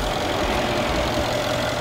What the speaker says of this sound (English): Whining like a supercharger